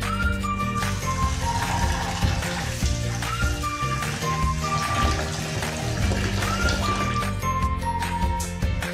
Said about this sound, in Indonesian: Selanjutnya kita cuci kacang kedelai hingga bersih.